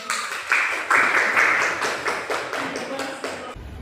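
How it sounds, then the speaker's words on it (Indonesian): A university class gives a short burst of clapping, a few seconds of dense, close applause that rises, holds, then tapers off before stopping abruptly. "Beri aplaus kepada pemahaman."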